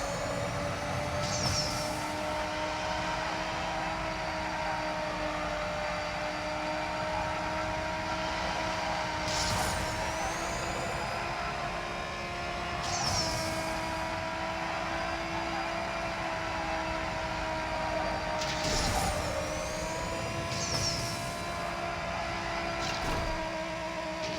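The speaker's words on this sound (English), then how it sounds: "I hear the jet." Jet aircraft passing in the mobile racing game NFS No Limits, a steady engine roar with shifting whine and sweeping high tones, heard alone over a continuous game drone with no talk.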